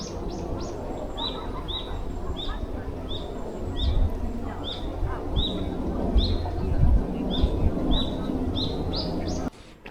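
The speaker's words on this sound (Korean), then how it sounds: "이곳의 새들이 노래를 정말 잘하네요." Birds singing along a lakeside trail at Seoul Grand Park, a repeated bright chirping call sounding about every half second over a steady outdoor background rumble, moderately close.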